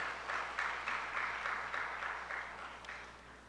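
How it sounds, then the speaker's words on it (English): A seated audience claps together at an award and honoring ceremony, a dense steady patter of hands held at even strength for several seconds before thinning slightly toward the end. "So a round of applause to those parents as well."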